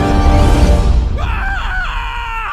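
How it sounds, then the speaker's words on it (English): A Team Fortress 2 character's death scream rings out after a second of loud, dense low rumble, with a short sliding cry that rises and falls twice before fading. "why would they use a TF2 death scream in a serious video?"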